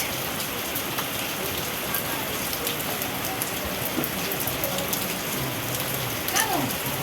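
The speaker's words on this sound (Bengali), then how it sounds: "কত বৃষ্টি হচ্ছে জানি না কখন বেরোতে পারবো" Heavy rain pours down in a dense, unbroken hiss, steady and loud throughout, with scattered drops striking nearby surfaces.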